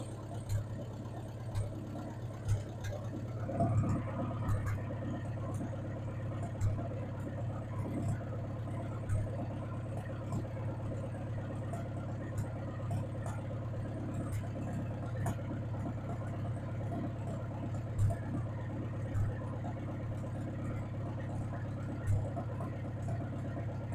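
A Farmall 404 tractor engine, running after a carburetor repair and without its muffler, idles in a steady low throb close by, with occasional sharp pops and clicks and no voices.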